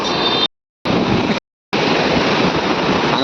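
Water roars in a steady, loud, broadband rush near a bridge, cut by two short silent gaps before the torrent resumes without letup.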